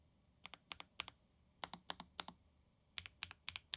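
Soft, muted keystrokes on a Lofree Flow Lite mechanical keyboard with low-profile switches and plastic keycaps, heard as three quick bursts of several taps each against a quiet room.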